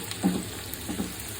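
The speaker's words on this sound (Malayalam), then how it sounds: "സവാള ഒന്ന് വഴങ്ങാക്കാം" Sliced onion sautés in a pan for prawn chops, a soft sizzle beneath two quiet scraping stirs, close and fairly faint.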